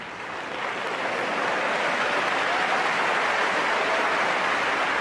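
A snooker audience at the Hong Kong Masters final claps warmly and steadily, a dense wash of applause swelling after a quiet start and holding at an even level without speech.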